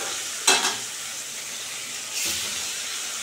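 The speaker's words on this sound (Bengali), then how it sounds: "ওইদিকে মাছ ভাজা হচ্ছে" Salted, turmeric-coated silver carp pieces fry in a pan, a steady soft sizzle with two brief louder bursts of spitting oil, close by and with no talk.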